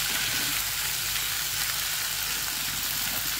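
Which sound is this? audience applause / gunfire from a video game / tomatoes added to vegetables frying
tomatoes added to vegetables frying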